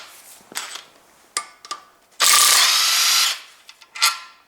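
A hand ratchet works loose 14 mm bolts on a Toyota 1.8 2ZZ-GE VVTL-i engine: short close clicking bursts, then a longer loud rasping run of pawl clicks, and a final quick burst.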